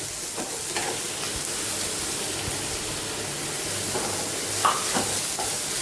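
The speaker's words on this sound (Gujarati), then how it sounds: "ડુંગળીને હલાવી લઈશું" Chopped onions fry in oil in a pan for palak paneer and are stirred: a steady, close, hissing sizzle throughout, with faint scraping strokes of the spoon breaking through now and then.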